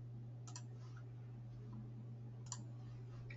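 Two crisp clicks of a computer mouse, about two seconds apart, sound close and clear over a steady electrical hum.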